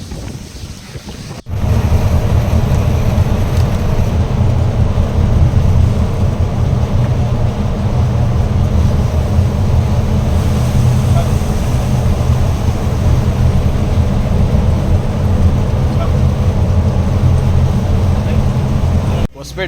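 An auto rickshaw drives along a mountain road in the rain, its engine and the wind making a loud, steady roaring rumble that runs without a break once it starts.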